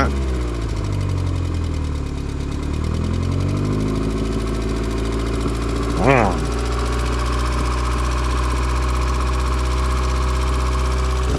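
Volkswagen Jetta engine running steadily at idle under a low, continuous hum, with a brief rise in pitch around the middle as the gas is applied, then settling back; voices talk faintly over it.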